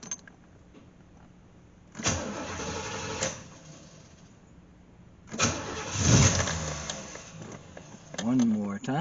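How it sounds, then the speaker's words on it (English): A C4 Corvette after a fuel pump replacement, heard through two brief cranking and starting attempts, the second catching and running briefly before a short revving burst, with quiet gaps between. "And now we'll test the fuel pump."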